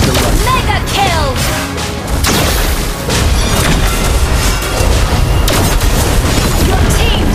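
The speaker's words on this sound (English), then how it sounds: "Your team destroyed a turret!" Booming crash of a turret being destroyed in the Mobile Legends: Bang Bang mobile game, a loud burst of explosive impacts layered over busy battle effects and music, with bright chimes and whooshes throughout.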